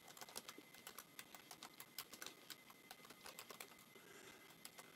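Rapid, irregular keystrokes clatter on a computer keyboard, close and fairly quiet, with brief pauses between bursts of typing.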